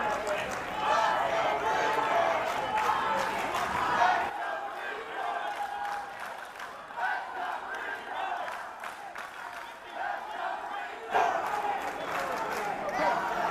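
Wheelchair basketball crowd at the 2019 DoD Warrior Games roars continuously, loud cheering and shouting from military fans filling the arena, with brief dips and swells in intensity.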